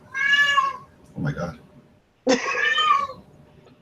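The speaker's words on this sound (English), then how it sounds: "that was a cat? Yeah, that's my cat." A cat lets out two loud, drawn-out meows close by, separated by a brief pause with a short exclaimed voice in between.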